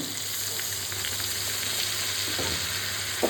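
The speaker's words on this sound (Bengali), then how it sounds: "সমস্ত কিছু তো ভালো করে নেড়ে নেড়ে কষাবো।" Potato curry with red chilli and Kashmiri chilli powder and a splash of water being stirred and sautéed in a pan, a constant close sizzle with occasional soft spatula scrapes, no talking.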